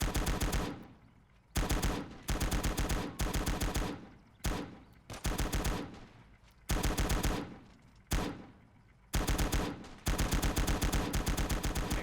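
Bursts of gunfire from the World War strategy game Call to Arms, with loud machine-gun volleys and rifle shots repeating in several sustained bursts that are separated by short gaps.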